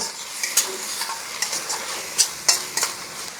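Tomato and cashew paste for a pomfret curry fries in a pan, giving a soft sizzle punctuated by scattered clinks and scrapes of a spoon stirring, with several sharp metallic taps.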